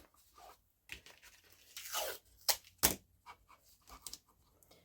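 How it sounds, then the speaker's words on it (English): Tape pulled and torn from a roll while working on an in-the-hoop machine embroidery zippered bag, several quick ripping bursts separated by short pauses, fairly faint and close. "I'm just going to tape it."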